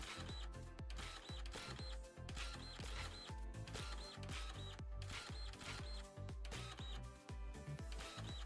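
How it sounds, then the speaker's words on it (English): Printer in the farming game Dinkum working away with a steady mechanical rhythm of repeated clicking, ratcheting strokes, quiet and even throughout. "The sound of the printer is starting to,"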